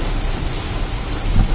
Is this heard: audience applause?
no